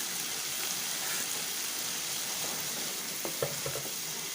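Capsicum sautéing in a hot pan for a sauce, giving a steady broadband sizzle throughout with a few brief stirring clicks near the end.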